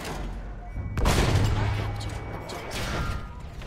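Gunfire and a heavy boom in Battlefield 1, likely from field gun fire, a loud blast followed by scattered shots and rumbling battle noise, with a player talking at times.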